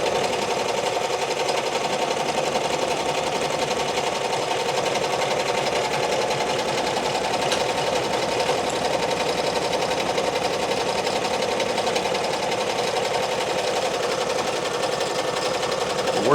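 An embroidery machine stitching out letters for a left chest logo, a steady rapid mechanical whir and needle chatter running continuously and evenly at close range.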